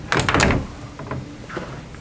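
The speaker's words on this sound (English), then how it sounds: "go ahead and close these doors" A pair of wall bed cabinet doors swing shut with a firm close thump followed by lighter knocks as they settle, close by and without talk.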